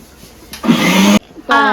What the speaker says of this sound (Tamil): அந்த வெங்காயத்தையும் இருக்கிற வெங்காயத்தையும் போட்டு அரைக்க வேண்டியதான்